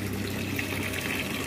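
Water rushes steadily from a filter tap as a container fills, a constant dense hiss and gurgle with no pauses, fairly close.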